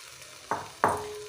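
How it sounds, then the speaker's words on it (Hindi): Boiled shell macaroni being stirred in a pan with vegetables, two scraping, sizzling strokes over a faint steady hiss. "इसको अच्छे से मिक्स कर देती हूँ"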